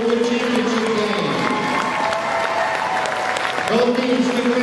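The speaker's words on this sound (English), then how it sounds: "Let's give the season our round of applause for the championship game." A crowd applauds and cheers in a gym after a high school basketball championship game, steady and moderately loud, with an announcer's voice talking over the clapping.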